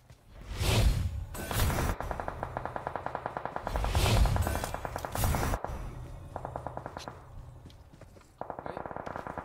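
Rapid automatic gunfire in the PUBG Mobile battle royale game, with repeated bursts of loud machine-gun shots and heavy low booms, ending in fast rhythmic volleys close by.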